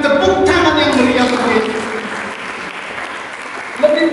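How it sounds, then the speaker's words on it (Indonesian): A church congregation applauds at a sermon service with loud, sustained clapping that slowly fades. A voice speaks over it at the start and again at the end. "Mari kita menyambut dengan tepuk tangan yang meriah."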